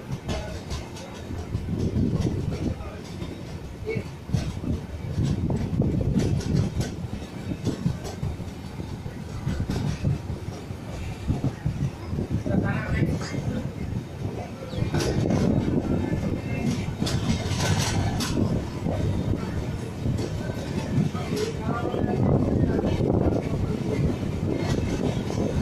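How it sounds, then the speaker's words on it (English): A freight train runs through a railway station on the main line, a loud, steady rumble and rattle of wagons that holds for the whole stretch with no break. "There's a freight on the main line, so it's skipping using the platform line."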